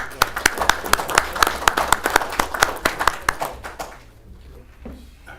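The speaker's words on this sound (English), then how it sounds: "Let's give them a round of applause, please" Applause at a council meeting: a small audience claps in a quick run of distinct, loud claps that taper off and fade into quiet room tone near the end.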